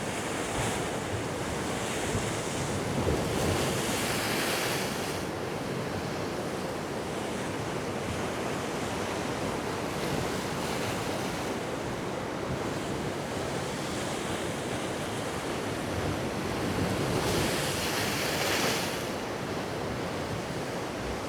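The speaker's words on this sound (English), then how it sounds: "you can see the waves coming in" Surf rolling in along the Costa de la Calma shore on Mallorca, a steady broadband wash with swells peaking every few seconds, overlaid by continuous wind buffeting the microphone and no voices.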